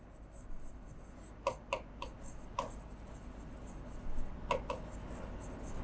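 Pen or marker strokes on a board or paper while accounting entries for a security premium are written out, a quiet scratchy texture with several short sharp taps and scrapes, close and alone.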